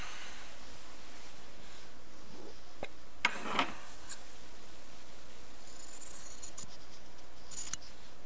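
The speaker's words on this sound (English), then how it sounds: "So I reached for my scissors, I was gonna snip it in half." Scissors snip through a fabric strip on the fold line while preparing a jelly roll quilting strip, with two or three distinct close cuts amid quiet room rustling.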